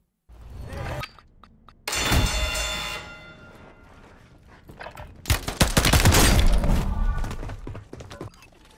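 Burst-weapon gunfire in the video game Warzone: several sharp, loud clusters of rapid shots, with a heavy fusillade in the second half and quieter gaps between bursts.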